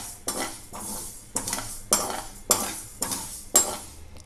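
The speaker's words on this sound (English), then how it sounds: "We have to stir the ingredients once in a while." Dry-roasting tomato chutney ingredients in a pan are stirred with a utensil, giving seven rhythmic scraping strokes, each with a sharp clink against the metal, close and clear over a faint sizzle, with no talking.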